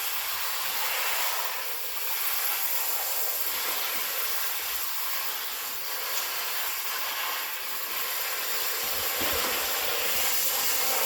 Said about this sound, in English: pot that is now boiling on the stove